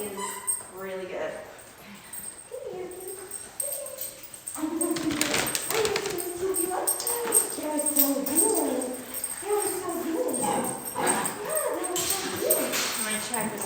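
Puppies yip and whimper during a dog training class, with high wavering cries and short yelps close by, mixed with people talking throughout.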